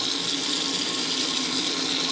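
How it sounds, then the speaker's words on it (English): Warm water pours steadily from a tap into a sink, making a close, continuous hiss with no other sounds. "So I usually like to get some warm water going."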